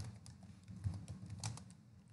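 Close, quiet typing on a computer keyboard, a short burst of irregular soft key clicks over about two seconds with no talking.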